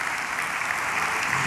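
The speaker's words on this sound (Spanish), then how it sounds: "Le da ese aplauso fuerte a Él." A church congregation gives loud, sustained applause, a dense steady clatter of many hands clapping at once, close and continuous with no talk.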